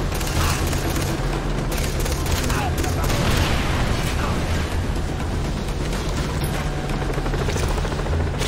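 A helicopter's steady rotor thrum runs throughout amid rapid gunfire and explosions in the video game Far Cry 3, loud and continuous, with voices talking over the action.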